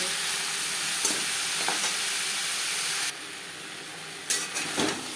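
Papaya pieces frying with salt and turmeric for a vegetarian curry, a dense hissing sizzle that drops in level partway through, with spoon scrapes and stirring knocks up close, no speech.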